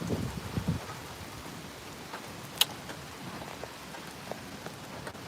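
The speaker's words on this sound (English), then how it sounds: "we're just gonna sit here and watch this storm as it moves on in" Steady rain from a thunderstorm patters on a surface, broad and continuous, with a few sharper drops standing out; no thunder is clearly heard, just the constant downpour.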